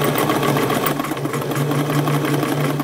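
A home sewing machine stitches fabric for a Butterick 6632 pullover top, a fast steady mechanical whirring and needle clatter, loud and close with no pauses.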